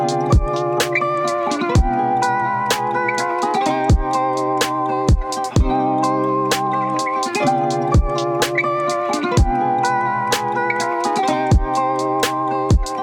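A full trap beat made in Ableton Live pounds along with deep booming kicks, bright rapid hi-hats and a sustained melodic layer, loud and steady throughout.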